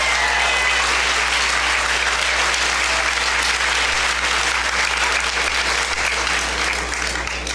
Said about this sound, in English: Clap your hands for MacArthur.